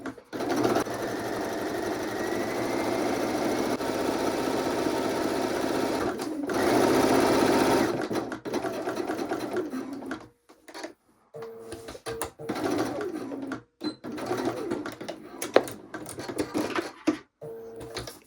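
A sewing machine stitches a raw-edge wallet seam, running fast and continuous for several seconds, then slowing into short stop-start bursts with gaps of quiet between them.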